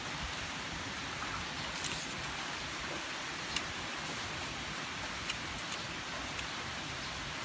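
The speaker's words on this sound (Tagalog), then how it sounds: "Umuulan na." Rain falls steadily in a rural Filipino setting, a dense even patter with a few sharper drops landing nearby, continuous and without speech.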